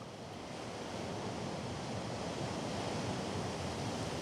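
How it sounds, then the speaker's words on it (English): Wind-driven waves surge against a pier on the shore of Lake Bracciano, a continuous loud roar of surf mixed with gusting wind noise, with no voices. "Waves sweep the pier of one of the small towns on the shore of the lake."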